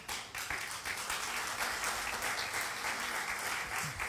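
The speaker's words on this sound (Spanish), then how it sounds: "Den un aplauso al Señor, hermano." A church congregation breaks into a loud, steady round of applause during a sermon, with dense clapping filling the room from start to finish and no talking over it.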